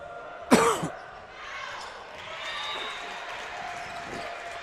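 A volleyball commentator coughs once sharply and loudly near the mic, followed by the faint murmur of a high school gym crowd.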